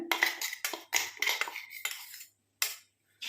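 A metal spoon clinks and scrapes around a bowl while stirring a homemade herbal hair-dye powder mixture, making a quick series of bright taps and scrapes close up, with short pauses between strokes.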